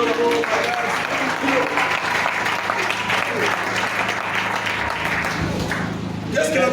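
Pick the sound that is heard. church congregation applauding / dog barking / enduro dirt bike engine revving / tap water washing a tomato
church congregation applauding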